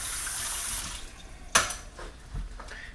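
A kitchen tap runs water at a steady rush while something is rinsed during lasagna prep, then cuts back to a quieter trickle with a few clinks and splashes.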